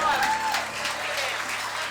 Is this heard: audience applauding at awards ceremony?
yes